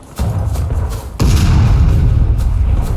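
Artillery cannon firing in a video game: two heavy, booming blasts about a second apart, the second deeper and longer with a rumbling tail, loud and close.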